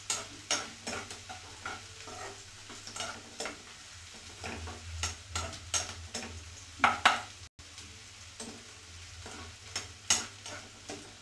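Pav bhaji mixture browning in a hot pan, stirred continuously with a utensil that knocks and scrapes rhythmically against the metal over a soft frying sizzle, close up and with no voices.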